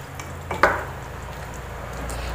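Spoon stirring Kerala chicken stew with added second-extract coconut milk in a pot, giving one brief scrape and knock of utensil against the pan over a steady low background hiss.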